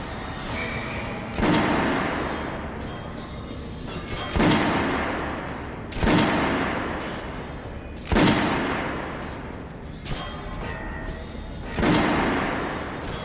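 Gunfire on a shooting range in the video game Metro Last Light: heavy booming shots land roughly every two seconds, each with a long rumbling tail, loud and close, with no voices over them.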